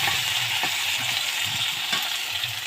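Potatoes frying in oil in a pan for a curry, a steady broad sizzle throughout with faint scraping stirs underneath, close and continuous, no voices.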